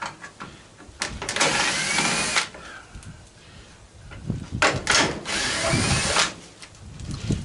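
A power drill runs in two long bursts while backing screws out of a scrapped ice maker, loud and close, with short pauses and quieter handling noise between the runs.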